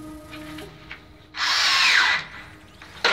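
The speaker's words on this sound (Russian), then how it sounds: "А теперь прикручиваем саму направляющую" A cordless screwdriver drives a self-tapping screw into a metal drywall guide profile while a bathroom wall is boxed in to hide pipes. One loud, steady whir lasts under a second, with quiet room noise before and after.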